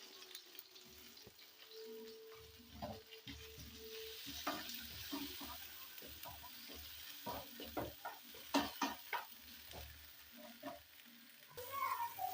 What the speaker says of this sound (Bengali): টমেটোটা ভাজা হয়ে এসছে।